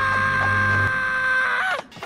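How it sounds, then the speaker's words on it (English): Cartoon bird in an animated film letting out a sustained, shrill squawking call with harmonic tone, bending downward and cutting off abruptly near the end, loud and alone. "Incoming bird."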